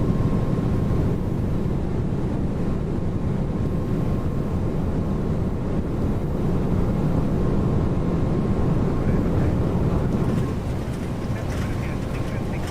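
Toliss A321neo airliner in the X-Plane 12 flight simulator, climbing out in turbulence and heavy rain: a steady, loud broadband engine and airflow roar with a faint constant tone, unbroken throughout.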